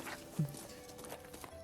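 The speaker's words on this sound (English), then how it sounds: "He gets a horse." Horse hooves clip-clopping in the video game Koudelka, a few soft, fairly close hoof falls over a steady game background hum.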